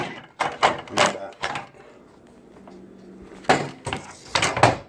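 Door of a Frigidaire microwave being removed, a series of close knocks, clicks and rattles in two bursts separated by a quieter pause with faint scraping and handling noise.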